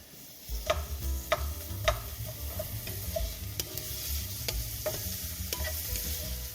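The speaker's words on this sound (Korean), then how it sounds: "한 3분 정도 살짝 투명해질 때까지 볶아주세요" Onions and minced garlic stir-frying in a pan, a bright constant sizzle with regular spatula knocks and scrapes recurring about every half second to second, close and unaccompanied by talk.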